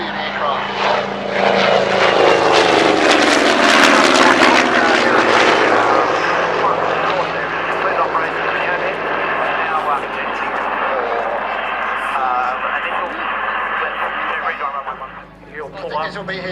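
Carrier night fighter aircraft with a propeller engine making a low pass at a flying display, a loud engine roar swelling and holding steady, with announcer talk beneath it.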